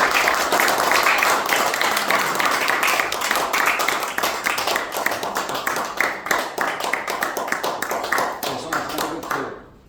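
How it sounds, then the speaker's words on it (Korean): An audience at a lecture forum applauding to welcome the speaker, a dense, steady wash of many hands clapping that continues throughout and fades out at the end. "태영호 위원님 앞으로 모실 때에 큰 박수로 환영해 주시기 바랍니다"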